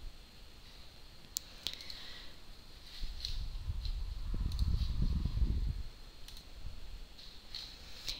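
Sparse, sharp mouse clicks on a computer, a few isolated taps spaced seconds apart over a low background hum, fairly quiet and close.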